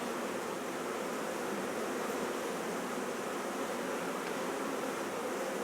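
Bees buzzing around an open hive box as a queen is added to unite the colonies, a dense steady hum filling the whole stretch with no pauses.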